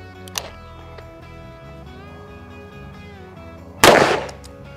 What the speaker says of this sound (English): we're gonna put two more shots from the 44 Magnum on it